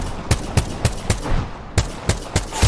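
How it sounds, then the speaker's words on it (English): Rapid single gunshots from the battle royale game Apex Legends ring out in a fairly regular rhythm, about nine sharp, loud cracks with a short pause midway, close and clear with no talking. "The whole lobby's shooting at me."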